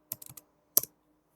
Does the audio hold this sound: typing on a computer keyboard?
yes